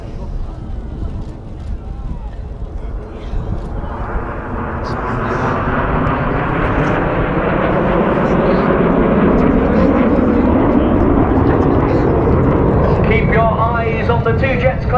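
Aerobatic airplane performing a Hammerhead break at the Southport Airshow, a loud engine roar that swells and holds steady for several seconds, with a commentator's voice over the public address under the noise.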